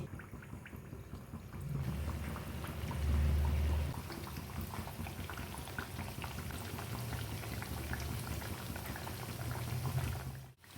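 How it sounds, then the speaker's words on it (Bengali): Snacks dropped one by one into hot white oil in a pan on a gas stove, giving a dense, steady bubbling sizzle with fine crackles that swells slightly then holds evenly. "তেলটা গরম হয়ে গেছে আমি এবার একে একে স্ন্যাক্সগুলো ছেড়ে দিচ্ছি"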